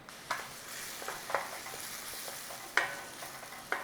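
Onion frying in butter in a pan, a soft continuous sizzle with a few sharp utensil taps and clicks scattered through, quiet and close, with no voices.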